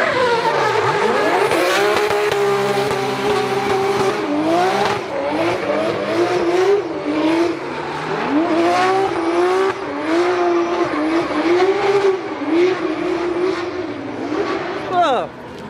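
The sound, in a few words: drift car driving with tire squeal at Drift Masters Ferropolis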